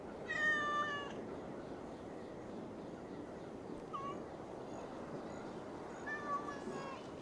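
A cat in the video game Assassin's Creed Valhalla meows a few times, one clear call near the start and fainter ones later, over a low game ambience.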